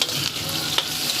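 Garlic sizzling in a hot pan while being stirred, a steady, close frying hiss with a few brief scrapes of the spoon.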